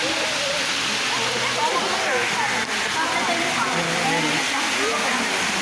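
Steady rushing water pours continuously at close range, a constant dense hiss with voices faintly mixed in beneath it.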